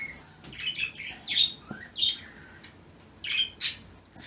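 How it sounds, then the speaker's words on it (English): Several birds chirp and tweet in quick, excited bursts, with bright calls coming and going at close range against a quiet background, and nobody speaking. "Birds are excited today. They're talking up a storm."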